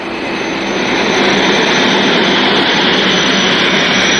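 A jet aircraft, a hog (A-10) lowering its landing gear on approach to an old, long-closed runway, roars loudly and steadily throughout with a broad, sustained engine rumble and hiss.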